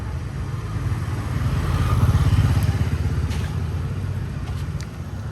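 Motorbikes in an ancient town in Vietnam, one rumbling engine swelling as it passes close by and fading away, with light clatter and a faint street background.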